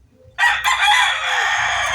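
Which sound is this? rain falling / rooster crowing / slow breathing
rooster crowing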